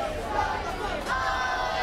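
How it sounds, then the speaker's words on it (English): A wrestling crowd at a British pro wrestling summer show sings a chant for a wrestler, a steady wash of massed voices filling the hall, with no single speaker standing out. "And the crowd here singing their famous Francisco song."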